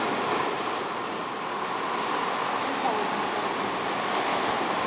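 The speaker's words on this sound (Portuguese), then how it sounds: "água batendo nas pedras" Sea water crashing against rocks, a continuous loud roaring wash of surf that stays dense and steady throughout with no pauses.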